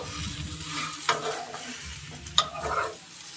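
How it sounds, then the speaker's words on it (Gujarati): A spoon stirs patra (colocasia rolls) in a tempering pan, giving two quick scraping strokes against the metal over a soft sizzle of frying oil. "હવે આપણે સારી રીતે હલાવી લઈશું તો આપણે સારી રીતે એકદમ હલાવી લઈશું પાત્રાને"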